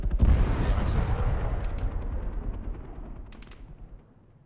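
AK rifle gunfire in a video game comes as a loud burst of booming shots that trail off into a fading rumble over about four seconds, with no talk.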